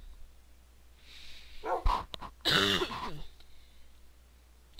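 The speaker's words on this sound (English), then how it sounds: "Sorry if I'm coughing." A person coughs and clears their throat in a few rough bursts near the mic, with quiet pauses between them.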